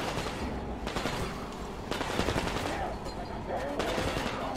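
Rapid automatic gunfire rattles in dense, continuous bursts in the video game Metro Exodus, loud and close with barely a pause across the whole stretch.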